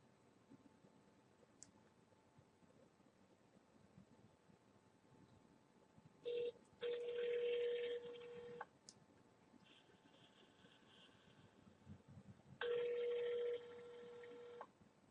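Phone line during a prank call: faint tones and beeps of a number being dialed, then two bursts of ringback tone separated by a pause, all quiet and heard without voices.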